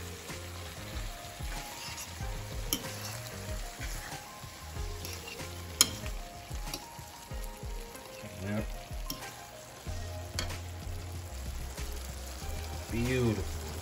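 Ackee and saltfish frying in a pot sizzle steadily at low level while being stirred, with soft scraping and clatter from the spoon; occasional speech over the cooking.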